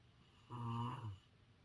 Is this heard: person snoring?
yes